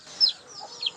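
Breeding hens and a rooster heard in a brief burst of soft clucking, a couple of short calls close at hand with nobody talking.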